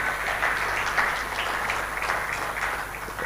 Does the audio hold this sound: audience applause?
yes